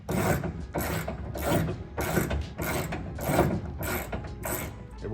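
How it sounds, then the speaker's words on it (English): A ratchet fitted with a 5/16 Allen bit tightens a captured-nut bed mount bolt on a truck, giving a steady run of about nine rhythmic clicking bursts, close and loud, with no talking. "So I'm gonna use the 5/16 Allen I have right here. Gonna put it on my ratchet."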